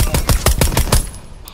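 Close, loud burst of automatic gunfire in an extraction shooter video game, about seven rapid shots in quick succession before trailing off into quiet.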